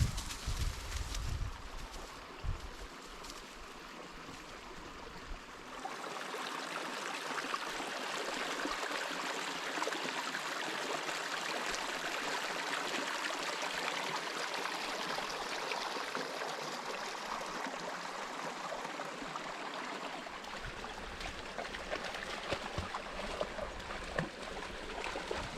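A small creek found hidden in a state forest flows with a steady broadband rush and trickle, close and continuous, while birds call faintly in the background and no one speaks.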